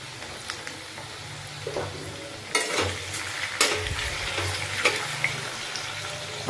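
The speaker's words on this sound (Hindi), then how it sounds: "अब मैं 1 मिनट तक आलू को फ्राई करूंगा।" Potatoes fry in hot oil in a pan, a steady crackling sizzle with spoon scrapes and a few louder clattering stirs partway through, no speech.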